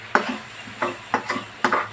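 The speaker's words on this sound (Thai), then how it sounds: "ก็ไม่ต้องผัดนานนะคะ" Several scraping clatters of a utensil stir-frying instant noodles in a pan, irregular strokes over a faint sizzle, close by.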